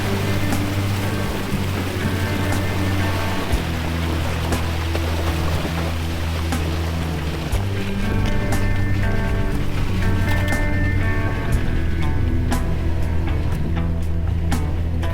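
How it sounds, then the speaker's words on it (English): A 4WD splashes slowly through a Crooked River crossing in Victoria's High Country, with a steady engine drone under continuous sloshing and rushing water, loud and close throughout. "The river crossings are coming thick and fast."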